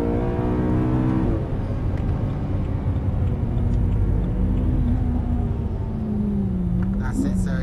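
A race car engine at Silverstone accelerates out of a corner, its pitch climbing and then holding under a continuous rumble, with someone talking over it.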